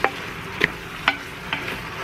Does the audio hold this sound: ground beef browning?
yes